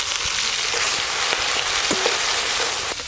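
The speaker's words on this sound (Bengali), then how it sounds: "ওই একই তেলে 5 ফোড়ন দেব। সর্ষে বাটা, চেরা কাঁচা লঙ্কা, হলুদ গুঁড়ো" Five-spice seeds, mustard paste, slit green chilies and turmeric frying in the same oil used for hilsa roe on a clay stove, a dense, close sizzle with scattered soft taps and crackles throughout.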